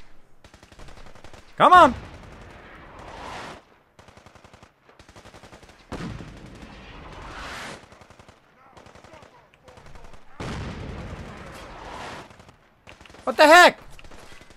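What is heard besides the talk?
artillery fire in Fallout 4 video game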